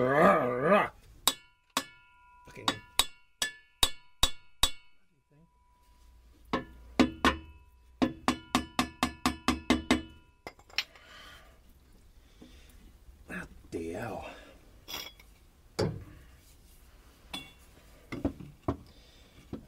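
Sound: claw hammer striking metal on van propshaft

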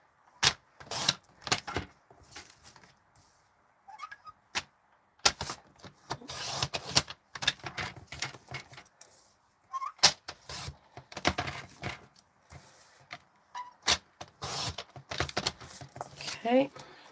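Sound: cutting down cardstock for a stamped card

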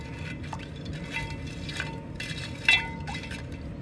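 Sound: stirring gold flakes in liquid in a glass container

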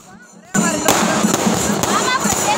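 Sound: firecrackers and fireworks going off during a procession

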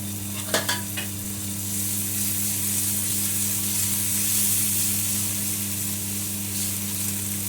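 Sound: onion and tomato frying in butter

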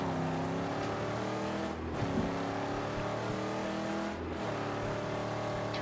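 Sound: car engine revving in Mad Max video game

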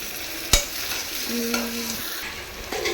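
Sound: sautéing raw plantain with salt and turmeric in a pan

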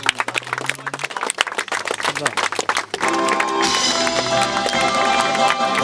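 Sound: audience applauding an award winner

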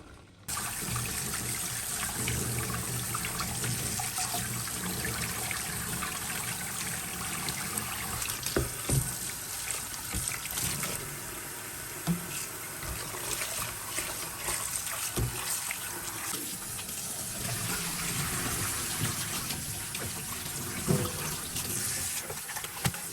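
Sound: rinsing boiled mixed mushrooms in cold water

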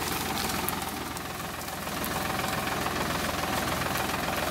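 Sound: Farmtrac 60 tractor engine running

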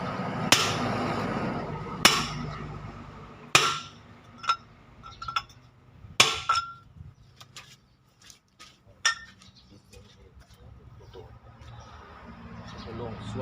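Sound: hammering in truck front wheel nuts

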